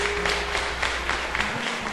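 A church congregation applauding during a sermon, with a dense, loud wash of many hands clapping at once that holds steady for the whole short stretch.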